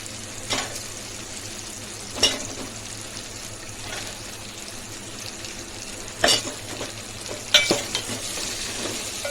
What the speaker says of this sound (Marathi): ते चांगले परतून घेऊया।